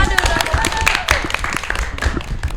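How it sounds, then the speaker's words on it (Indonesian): Applause from a podcast audience, scattered and uneven claps with distinct individual hits rather than a full roar, mixed with talking and background noise. "Tepuk tangan lagi"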